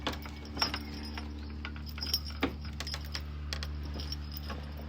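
Keys jangle and clink at close range as a hotel room door is opened, with a few sharp metallic taps over a steady low room hum.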